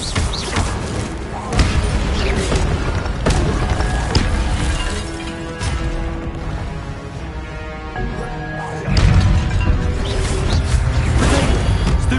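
Incendio fire spell cast in Hogwarts Legacy, bursts of whooshing, crackling impact with a strong surge near the end amid busy game ambience and music.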